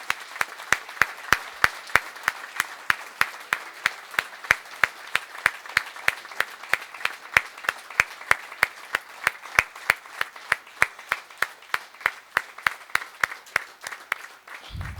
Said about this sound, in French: on vous applaudit pour l'investissement qui a été le vôtre.